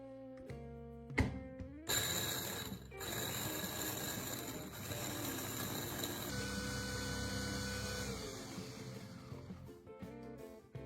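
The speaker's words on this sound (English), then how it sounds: "Then grind them into fine powder using a small coffee grinder or blender." A small electric coffee grinder pulverizing dried garlic into powder, a loud whirring motor drone that kicks in after a few knocks, runs steadily, then shifts pitch and winds down near the end.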